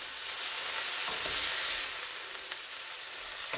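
Dandelion greens and onions frying in a hot skillet, a loud, continuous hiss and crackle with a couple of soft stirring knocks, heard up close with no talk.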